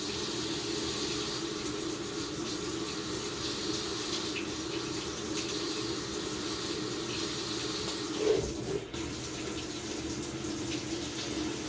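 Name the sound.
washing machine filling with water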